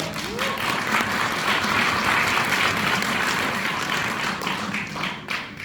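An audience claps at a political book launch event in Daegu, with dense, steady applause filling the whole stretch at close range before easing slightly at the end.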